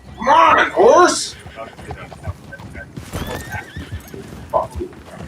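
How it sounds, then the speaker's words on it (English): A horse in Red Dead Redemption 2 gives a loud, close whinny near the start, then hoofbeats clip-clop steadily beneath a voice and game background sounds. "Come on, horse!"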